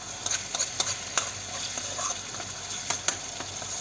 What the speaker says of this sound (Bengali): দেখতে পাচ্ছেন আমার মশলা পাকানো হচ্ছে।